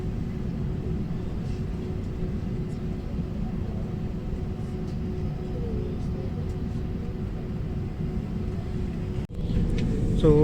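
Airliner engines hum and rumble inside the cabin as the plane taxis away from Terminal 3 in Manila, a steady low drone that swells louder near the end.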